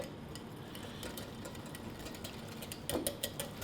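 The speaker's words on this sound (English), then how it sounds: "Whisk all the lumps out." A whisk works through a vegan, dairy-free chocolate mixture for a caramel slice, making a steady stream of quick, close scraping clicks against the bowl that grow a little louder and sharper near the end, with no talking.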